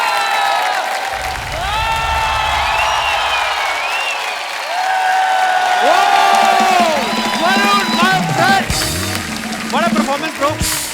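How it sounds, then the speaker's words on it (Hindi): Studio audience on a Hindi comedy talk show with a host, welcoming Varun and Kriti with loud sustained applause, cheering and whoops, with musical tones and shouting voices mixed in throughout. "जोरदार तालियां"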